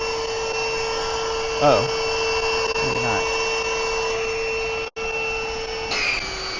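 An electric air pump inflating a Dikasun air mattress in a Tesla Model Y runs as a steady, even mechanical drone throughout, with a brief voice and short shuffling noises over it.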